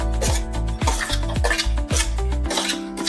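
Capsicum and green chili being sautéed in a pan, with repeated metallic scrapes and knocks of a spoon against the pan over a steady sizzle, close and fairly loud, no talking.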